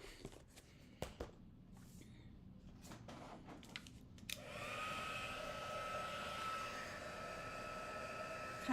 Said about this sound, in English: I'm going to pull in my heat gun.